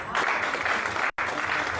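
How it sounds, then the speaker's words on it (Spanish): Audience applause at a Christian worship gathering, a steady dense wash of clapping that fills the room, cut by a very brief gap partway through before resuming at full strength. "aplauso al Rey."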